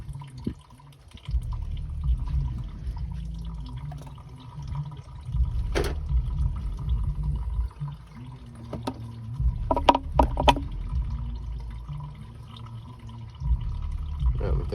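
Coolant draining out of a Lexus IS300 engine during a water pump replacement, a faint, steady trickle with scattered drips and small clanks of tools nearby.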